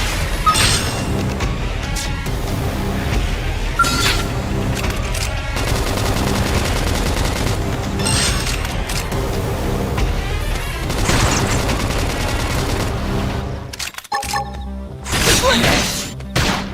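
Battle gunfire in Xenoblade Chronicles X: dense, continuous volleys of shots and booms pound on for many seconds, loud and close, broken briefly near the end by a short gap before more blasts.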